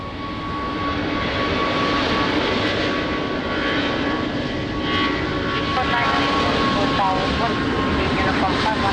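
An airliner roars continuously and loudly as it takes off from runway 20 at Lisbon Airport in the rain, with radio voices talking over the engine noise.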